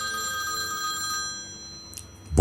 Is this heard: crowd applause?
no